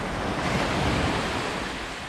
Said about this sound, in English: this is Haksa Beach, and it basically looks like it's mostly families and kids today